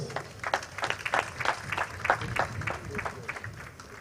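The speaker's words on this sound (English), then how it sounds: "Shall we please give the reviewing officer a resounding round of applause?" Audience applause at a Nigerian Navy fleet review in Lagos, greeting the reviewing officer: a steady run of moderate clapping from a crowd outdoors, fairly even and somewhat distant across the whole stretch.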